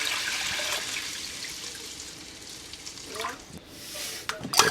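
Fresh water rushes into a cooking pot while Jamaican chicken fricassee with rice and peas is being prepared, making a steady hissing pour that swells and splashes toward the end.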